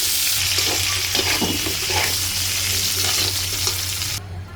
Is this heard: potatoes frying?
yes